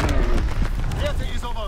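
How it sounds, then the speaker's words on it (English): Mortar shells exploding in a Call of Duty WW2 battle in the Ardennes Forest, a dense, loud, continuous rumble of booms layered under a radio-style voice announcement. "Enemy mortar fire incoming."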